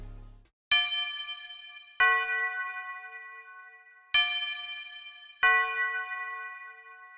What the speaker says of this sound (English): the last thing for the melody is just adding in the tubular bell